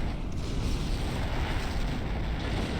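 An enemy battleship sinks in the Star Trek Online space game with a low, continuous explosive rumble and creaking, mechanical debris noise. The sound is fairly loud and steady throughout, and no voices are heard.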